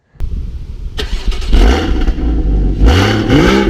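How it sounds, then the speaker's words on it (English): A Porsche Boxster S 981's naturally aspirated flat-six engine starts and revs up in a few throaty bursts, loud and close, with no talking. "it has a flat 6 naturally aspirated motor"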